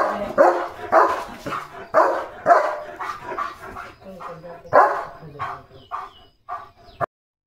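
A German shepherd dog barks repeatedly, loud and close, in a string of about ten sharp, evenly spaced barks that ends with a brief silence.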